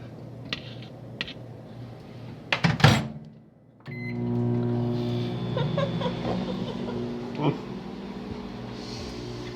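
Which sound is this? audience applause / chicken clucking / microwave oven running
microwave oven running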